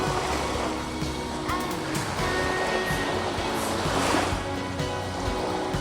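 Ocean waves washing in at the sea, a steady broadband surf roar that fills the whole stretch with swelling, rushing water, close and fairly loud, no voices.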